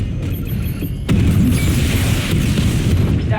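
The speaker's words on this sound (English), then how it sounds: "Missile barrage level 2 ready." A missile barrage explodes in the video game Batman Arkham Knight, a loud sustained rumble of booms that swells suddenly after a second and rolls on densely.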